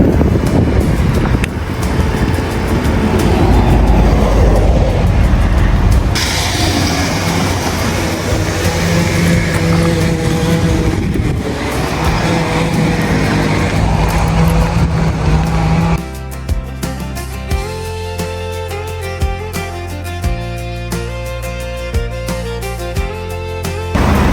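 Traffic along a ring road near Perpignan rushes past a cyclist, with loud wind buffeting the microphone and a constant roar from passing vehicles. Toward the end, a steady rolling rumble and rattling take over.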